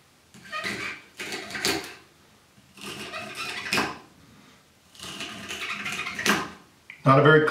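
An epoxy-handled serrated knife saws through celery on a board. Four separate bursts of crisp crunching and tearing cut strokes come in close and moderately loud, ending in a sharper clatter.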